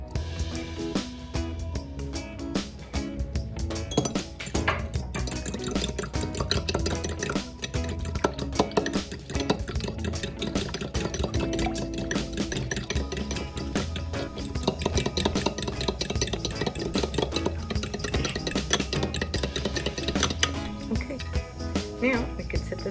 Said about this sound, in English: And then now I'm going to mix with the milk.